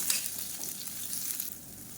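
Long-sliced onions fry gently in a pan, giving a soft, steady sizzle with faint stirring and no voices.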